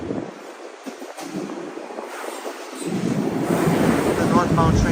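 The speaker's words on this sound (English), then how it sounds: "The northbound train right there." A northbound Toronto subway train passes near Davisville station on a night walk, a rising rumble and rush that builds over several seconds beneath wind buffeting the microphone, moderately loud and growing closer.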